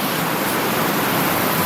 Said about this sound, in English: the surf's very high, so there's some really awesome waves